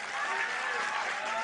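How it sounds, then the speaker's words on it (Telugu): Crowd at a student protest at Indira Park clapping steadily, a dense continuous patter of applause with no pauses. "ఇంకొద్ది గట్టి కొట్టాల చప్పట్లు."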